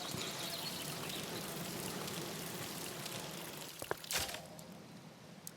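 Water pouring and splashing steadily onto crops in the survival game Outbound, a continuous wet patter that breaks into a brief louder splash near the end.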